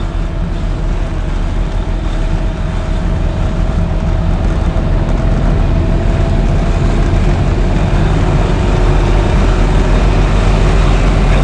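Small two-cylinder engine of a 1987 FIAT 126p straining up a hill, a loud, continuous droning rumble heard from inside the car with no talk.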